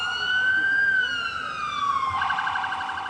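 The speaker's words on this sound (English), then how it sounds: "They're using sirens and noisemakers trying to get two grizzly bears to move out of this neighborhood" Wailing electronic sirens sweep steadily in a residential neighborhood on Cormorant Island, sounded to drive two grizzly bears away; a continuous loud rising-and-falling siren tone shifts into a faster warble partway through.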